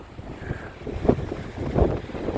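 Strong wind buffets the microphone by the sea at Blackpool during a 10 meter high tide, with waves crashing nearby in rough bursts and a constant roaring gust underneath.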